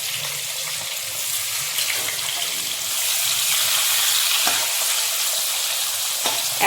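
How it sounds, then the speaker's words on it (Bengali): Thick potato slices are frying in a pan, giving a steady, dense sizzling hiss throughout with a few faint scrapes and clicks, no talking. "খোসা ছাড়িয়ে এরকম একটু মোটা মোটা করেই ভাজি।"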